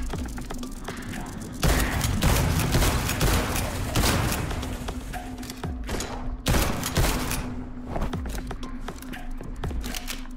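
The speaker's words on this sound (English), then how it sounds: "That's a shotgun." Shotgun fire in the video game Liberated: dense bursts of loud blasts and thuds through most of the passage, with a short lull partway through.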